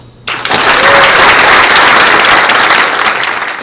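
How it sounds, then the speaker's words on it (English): Loud, sustained applause from an audience at an Air Force chief induction ceremony at Eielson AFB, starting abruptly and holding steady as a dense wash of clapping before easing slightly at the end. "would you please join me in a round of applause?"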